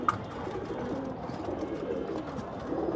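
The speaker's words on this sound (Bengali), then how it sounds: "এই যে কবুতর, এটা হলো আমার উড়তি কবুতর" Domestic flying pigeons coo close by in a low, continuous run of throaty calls with no talk.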